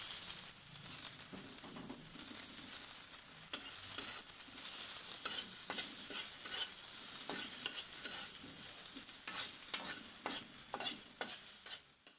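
Onions sautéing in a pan for chicken curry, a steady soft sizzle with repeated scraping stirs of a spoon, close and even throughout with no talking.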